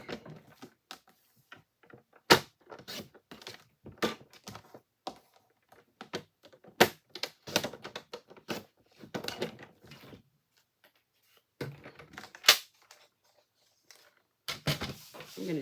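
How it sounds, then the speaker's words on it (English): A paper trimmer cuts thick white cardstock, giving a series of sharp, close clicks and slicing strokes in uneven bursts with quiet pauses between. "I'm going to cut that. So bring in my paper trimmer."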